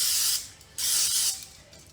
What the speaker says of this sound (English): I'm going to take my spray, and we're going to coat really well here.